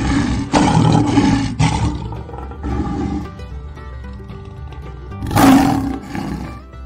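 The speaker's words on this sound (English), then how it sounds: "Lion, the beautiful wild cat." A lion roars loudly and close, several powerful bursts in a row, a quieter stretch, then one more big roar near the end.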